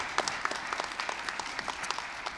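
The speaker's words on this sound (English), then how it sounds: "Let's give her one more time a round of applause." An audience at a Seattle city youth mental health services announcement claps in a brief, even round of applause, moderately loud with no talk over it.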